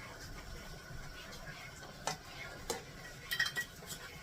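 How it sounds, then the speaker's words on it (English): A utensil stirs macaroni with pepper in a pot, giving faint, soft scraping movement with a few sharp clinks against the metal, louder toward the end. "you're going to get that all stirred together"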